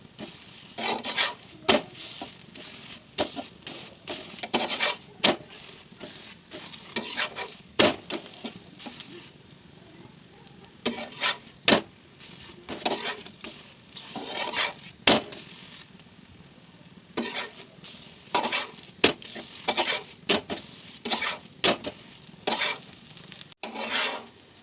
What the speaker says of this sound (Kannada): ಮೀಡಿಯಮ್ ಫ್ಲೇಮ್ ಒಳಗೆ ಇಟ್ಕೊಂಡು ಎಣ್ಣೆ ಹಾಕೋತ ಸ್ವಲ್ಪ ಎಣ್ಣೆ ಹಾಕೋತ ಫ್ರೈ ಮಾಡಿರಿ